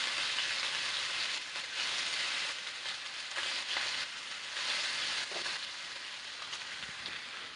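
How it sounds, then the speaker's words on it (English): Lamb loin chops sear in a hot pan, giving a loud, steady crackling sizzle that swells and eases in gentle waves with no voices over it. "Just sear it up on the other side."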